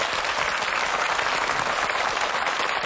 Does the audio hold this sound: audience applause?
yes